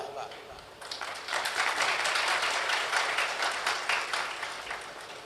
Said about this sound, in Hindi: अब ताली तो बजा रहे हो